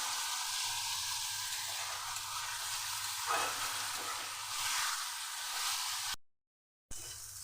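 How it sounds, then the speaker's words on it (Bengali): Eggplant fries in oil over a medium gas flame while being stirred, giving a continuous crackling sizzle with occasional louder scraping swells, broken by a brief silent gap before the sizzling resumes. "বেগুনটাকে এইভাবে নেড়ে নেড়ে ভেজে নেবো"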